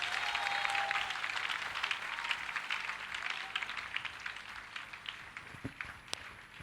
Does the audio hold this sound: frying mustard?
no